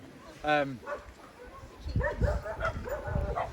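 Outdoors in the snow, a dog gives a brief high, whining chirp, followed by someone talking at close range.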